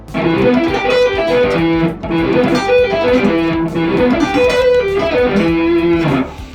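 Fast, fluid sweep-picked electric guitar arpeggios sweep up and down in repeating phrases, clear and close, played alone without any voices.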